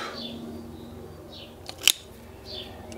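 A single crisp snip of pruning shears cutting a branch on a maple bonsai taken from a garden, close and brief against a quiet room background.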